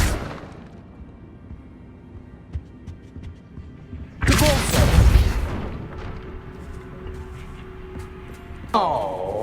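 A Bombarda spell detonates in Hogwarts Legacy as one loud, booming explosion with a rushing crackle that fades over about two seconds. Quieter game ambience comes before it, and a shimmering magical chime rises at the very end.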